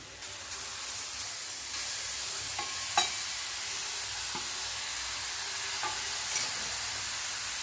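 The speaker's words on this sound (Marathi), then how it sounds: "तूप वितळेलं आहे आता त्याच्यामध्ये हे गाजराचा खीस टाकायचं" Grated carrot sizzles and crackles steadily in melted ghee in a pan over medium-low gas, a continuous close frying hiss with a few small stirring knocks, no voices.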